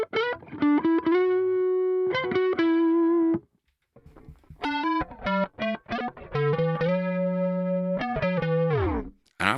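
Electric guitar run through a compressor on a ToneX pedal and BOSS GT-1000, playing bursts of sustained, harmonically rich distorted notes and short chord stabs separated by brief pauses, loud and close with no talking.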